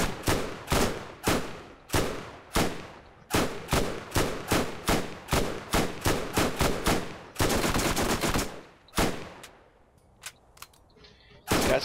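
Submachine gun fire in Borderlands: sharp, close bursts of rapid shots in quick rhythmic clusters, then an unbroken stream of fire, tapering to a few scattered single shots.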